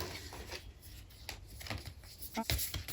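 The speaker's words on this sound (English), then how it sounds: "I'm trying to shuffle them the best as I can" Stiff, thick oracle cards are shuffled close up in quick, uneven riffles and taps, with faint background noise and a final louder flurry.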